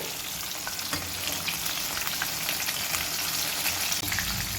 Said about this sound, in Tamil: சிக்கன் வந்து சூப்பராக ஃப்ரை ஆகிடுச்சு.